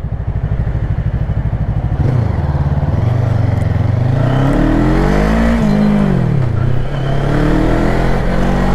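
An FKM Falcon X400CC motorcycle pulls hard on a test ride, its engine note climbing loud and close through repeated rising revs after a thumping idle-like start, with wind rush underneath.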